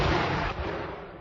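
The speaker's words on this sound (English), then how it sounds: "That's a good cannon shot." A single booming cannon shot sound effect, loud and close, with a heavy low-end blast that decays over about a second, no voices.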